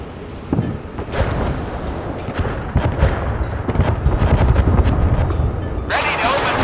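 Naval guns firing in the warship game Force of Warships, a rolling series of heavy booms and blasts over a continuous rumble of battle, with a further burst of fire at the end.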